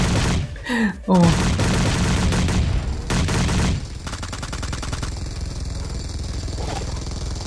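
Explosive gunfire in PUBG Mobile's Halloween zombie mode: a couple of heavy booming shots open, then a rapid stream of automatic fire, loud and close, with someone talking briefly over it.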